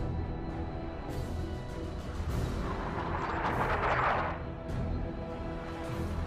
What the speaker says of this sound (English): The traitors are laying down a barrage to soften us up.